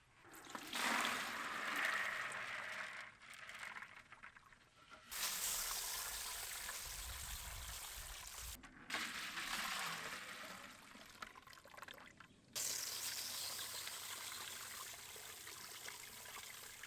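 Soaked sunflower and pea seeds are drained and rinsed under running water, heard as close, strong bursts of gushing and splashing water separated by brief pauses, with no talking.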